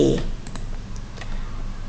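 Keys tapping on a computer keyboard while a web address is typed, a few quick light clicks early on, then sparse soft taps over a steady low background hum.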